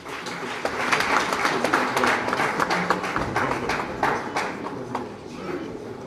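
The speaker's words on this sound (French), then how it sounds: "Encore sous vos applaudissements." An award ceremony audience applauds in a dense, sustained patter of many hands, moderately loud and steady throughout, with some crowd murmur underneath.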